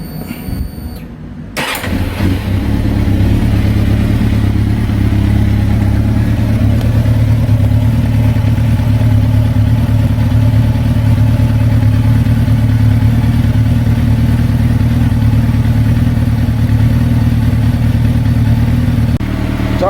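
A Suzuki GSX-R1000 motorcycle engine starts after a short pause and then runs steadily at idle, close and loud, during a coolant flush, with no talking.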